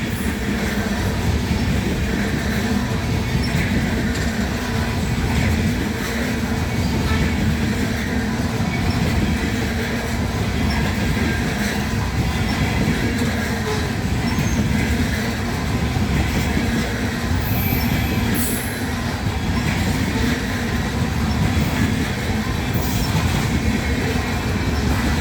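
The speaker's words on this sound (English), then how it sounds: "You hear bumping down there, but they're going over the frogs." A freight train of auto rack cars rolling past, a continuous rumble of rail cars with rhythmic clunks and bumps as the wheels pass over track frogs.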